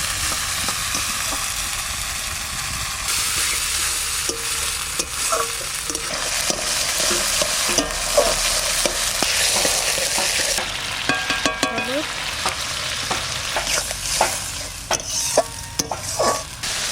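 Kashmiri chili powder and spices fry in hot oil with a loud, steady sizzle, broken by scraping stirs and occasional clinks of a utensil against the pan.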